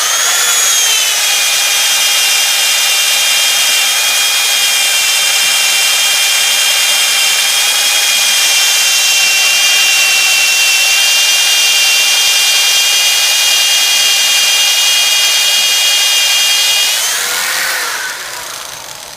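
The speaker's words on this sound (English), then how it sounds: "That's what we've had to do just to drill that one out." A power drill bores a hole with cutting oil during a Tablejacks install, making a loud, steady high-pitched whine for most of the clip before it winds down at the end.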